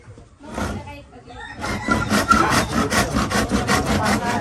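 A hand saw rasps through wood in steady, rhythmic back-and-forth strokes that grow louder and faster after a quiet start.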